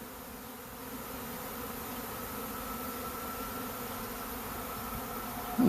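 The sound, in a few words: honeybee swarm settling onto a log hive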